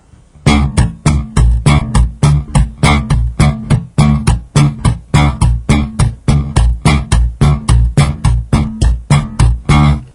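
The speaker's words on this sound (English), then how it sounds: "the hammer approach stems from basically taking the hand and slapping up against the strings" Bass guitar hammer technique, the flat hand slapping against the strings in a steady, evenly spaced run of sharp, muted percussive hits, loud, close and unaccompanied.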